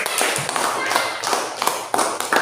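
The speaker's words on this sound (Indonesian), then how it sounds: "Tepuk tangan untuk Sweetie dan Jenny." Classroom applause for two children, a short run of claps with sharp slaps at an uneven rhythm, close and fairly loud.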